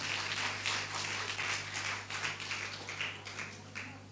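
A church congregation at an anniversary service claps together in a sustained burst of applause, fairly close and loud at first, then thinning slightly toward the end over a steady low hum.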